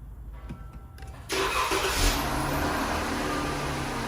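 A 2014 Jeep Grand Cherokee engine cranks briefly after a quiet moment, then catches and settles into a loud, steady running idle close by.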